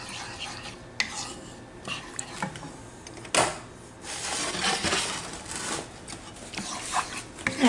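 Kerala-style mango pickle being stirred in a metal pot, with irregular scraping and clinking of a spoon against the vessel, several sharp knocks and a steady rustling stir, close and fairly quiet, no talk.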